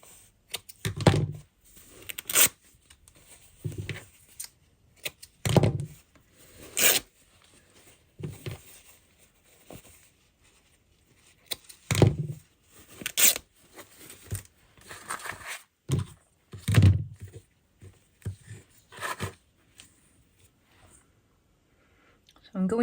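Scissors cutting paper scraps for an art journal pouch, with short snipping and rustling bursts repeated at irregular intervals, close and fairly quiet, with a person talking at times between the cuts.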